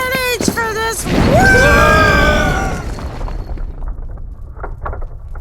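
Video game explosion: a broad, roaring blast swells after a brief voice, holds loudly for about two seconds, then fades into scattered crackles and faint rumble.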